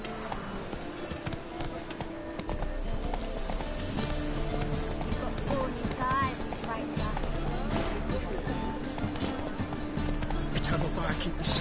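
Hooves of Roach, a horse in the video game The Witcher 3, clip-clop steadily under game music, ambient sound and a talking voice.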